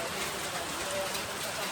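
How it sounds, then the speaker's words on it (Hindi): Rain mixed with falling snow and hail in Amarkantak, a dense steady hiss of drops with no gaps, fairly loud and close throughout the short stretch. "बारिश के साथ साथ बर्फ़ भी गिरने शुरू हो चुके हैं अमरकंटक में"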